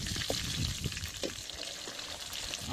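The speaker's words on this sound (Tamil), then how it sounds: "வரமிளகாய் அப்படியே கரண்டி போட்டு கிண்டுங்க." Dried red chillies frying in hot oil while being stirred with a ladle, a soft steady sizzle with faint scraping stirs, fairly quiet and without talk.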